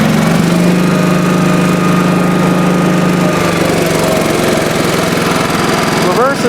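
A 1986 Honda HT3810 lawn tractor engine runs loudly nearby while driving in reverse gear, a steady rough drone with a slight shift in tone partway through and a brief squeak near the end.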